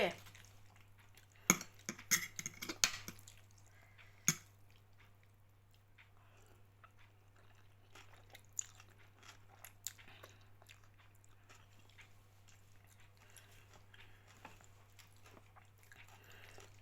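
Close, crisp chewing and crunching of a khanom chin salad with radish and lettuce, clustered bites early on followed by quieter, intermittent chewing and faint utensil clinks over a low steady hum.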